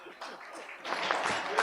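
Audience applause at a university project launch, a short burst of clapping that swells after a quiet start and continues steadily, with voices mixed into the room.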